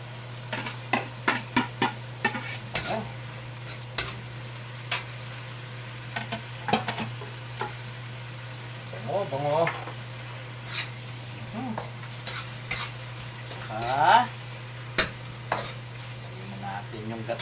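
Ginger sautés in a pan while a utensil scrapes and stirs in frequent short strokes over a low, steady sizzle; a voice speaks briefly now and then.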